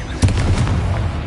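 A Bombarda spell in Hogwarts Legacy goes off as a single loud, close explosive boom with a rumbling tail lasting about a second.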